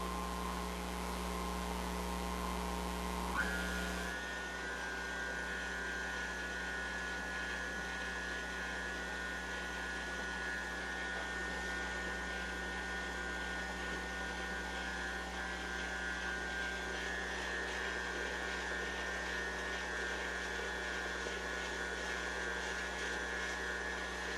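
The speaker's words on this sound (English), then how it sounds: "whenever you've added more powdered ingredients into your mixer, start it off slow" An electric mixer runs slowly through powdered ingredients for a pumpkin spice cream cheese cake, a constant close motor drone that shifts pitch once early on, then holds steady throughout.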